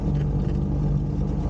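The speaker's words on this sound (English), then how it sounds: "So as I taxied out towards the runway," A Shadow light aircraft taxies toward the runway with a steady, close engine drone and low rumble throughout, with no voices.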